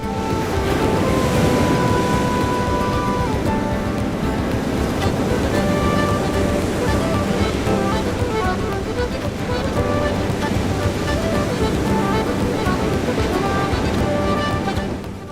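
Sea waves rolling onto Kovalam beach, a loud continuous roar of surf with wind noise buffeting the microphone throughout.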